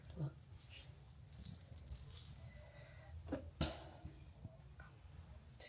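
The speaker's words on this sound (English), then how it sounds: "Look at all this water coming out." Water runs and drips steadily at low volume, with a few sharper splashes and clinks and faint background voices.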